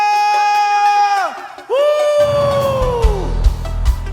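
A church congregation cheers and shouts hallelujah, sustained drawn-out voices that swell loudly and then break into a rumbling crowd roar, close and continuous.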